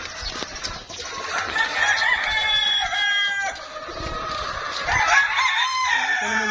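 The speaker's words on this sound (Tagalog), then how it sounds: "May mga manok dito" Several gamefowl roosters at a game farm crow over one another in a busy, overlapping chorus, some close and loud, others farther off.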